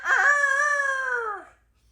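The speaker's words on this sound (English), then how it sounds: "one of my chickens is starting to crow" A backyard chicken, a hen starting to crow like a rooster, lets out one loud, close, drawn-out crow lasting over a second, its voice dropping off at the end with no other sounds around it.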